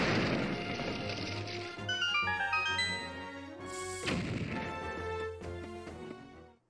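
Bomb blasts in The Legend of Zelda: A Link Between Worlds, two dull thumping explosions spaced a couple of seconds apart beneath a bright, melodic game music bed.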